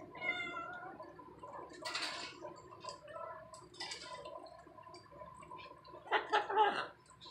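A cat makes short gurgling, meowing vocalizations in bursts, quiet and close, with a louder cluster near the end and faint background noise between.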